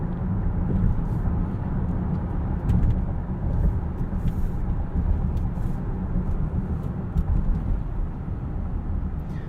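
Inside a 2022 Nissan Pathfinder Platinum 4WD three-row SUV on the road: a steady low rumble of engine and tyres with faint wind noise, smooth and constant, with no voices.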